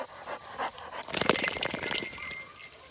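A gun dog pants hard after a retrieve from the water, rapid breathy puffs close to the microphone that grow louder halfway through, with faint splashy rustling.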